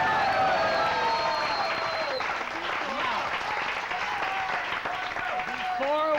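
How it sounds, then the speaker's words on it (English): Steady applause from a 1986 San Diego TV studio audience, dense and sustained throughout, with a host talking loudly over the clapping. "Let's give him some applause now."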